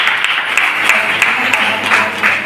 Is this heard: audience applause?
yes